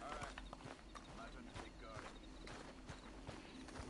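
Rhythmic clip-clop of horse hooves walking in Red Dead Redemption 2, steady and moderately close, mixed with game sounds and a busy background.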